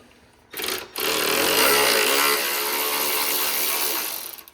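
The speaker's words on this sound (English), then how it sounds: "the next thing we're doing is removing the 3 more T25 bolts that are on the back side of this intake" A power tool whirs steadily for several seconds after a short initial burst, close and loud, while backing T25 bolts out of the rear of a Weistec intake on a Mercedes-AMG M133 engine.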